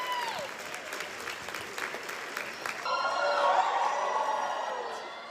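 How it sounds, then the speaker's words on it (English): Applause and cheering from a live audience at a bizarre stage act where a man hangs weights from hooks; clapping rises and swells louder in the second half, with whoops and crowd noise over a busy background. "You hear that applause?"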